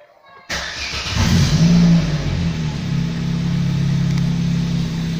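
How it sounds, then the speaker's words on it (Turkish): After a brief quiet moment, a car that sat unused for four months cranks and fires up, its engine revving loudly before settling into a steady, close idle. "tekrar marş yapmamız gerekiyor"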